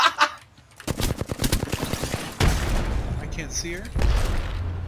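Rapid automatic gunfire rattles in a video game, followed by a heavy low grenade blast and more booms. A player talks over the action.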